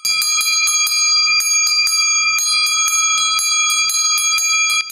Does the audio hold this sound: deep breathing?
no